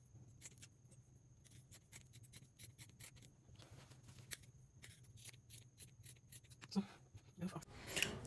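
Scissors snip through fabric for an off-shoulder dress sleeve, a quiet series of short, crisp cuts at an irregular rhythm with faint rustling of cloth, close and soft.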